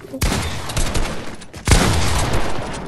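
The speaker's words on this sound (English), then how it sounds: "You're not even shooting. Well, you are now." Rapid bursts of gunfire in Fortnite, loud and close, a stuttering volley that cuts off briefly and then resumes in a second sharp burst of shots.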